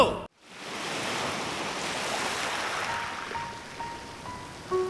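Steady roar of surf washing in, broad rushing noise that holds constant after a brief dropout near the start, with faint tones toward the end.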